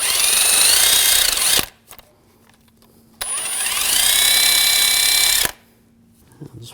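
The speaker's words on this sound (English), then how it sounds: "You can use a wire brush to clean this up a little bit." A wire brush, likely power-driven, scrubs a brake caliper from a 2015-2022 Chevrolet Colorado, heard in two loud, harsh, sustained whirring bursts close by, separated by a quiet gap.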